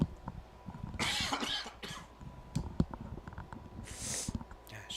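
A commentator coughs in several loud, rough bursts at close range during a live varsity high school soccer broadcast between Pacelli and Strong Rock Christian, with faint crowd and field noise behind.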